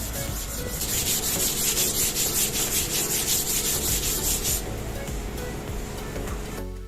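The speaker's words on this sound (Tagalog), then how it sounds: "sundan natin ito kaagad ng ating papel de liha o sandpaper number 80 hanggang sa mawala yung malagkit nito sa ibabaw" Body filler on a plywood door is hand sanded with number 80 sandpaper, a close rhythmic scratchy rubbing in quick back-and-forth strokes that stop near the end.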